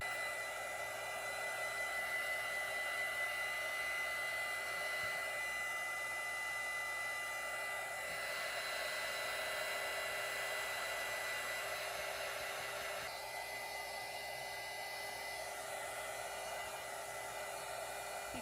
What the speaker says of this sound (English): I just went over them quickly with my dryer.